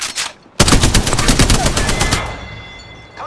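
Rapid automatic gunfire in Apex Legends, a loud, steady burst of evenly spaced shots after a brief pause, trailing off into a ringing tail.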